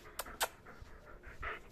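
A 13-year-old small female pet dog panting in short, quick breaths close by, with a couple of sharper huffs early on, in a quiet indoor setting.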